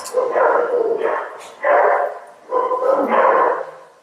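Several pet dogs bark and yip in bursts from close by in a home kitchen while vegetables are being browned for a meal, with a voice speaking among the barks.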